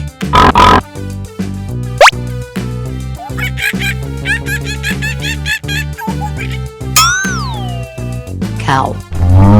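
A cartoon pig grunts in a short, loud burst at the start, then a playful children's toy-train tune with plops, a rising whistle and springy sound effects carries on, ending with another brief snort.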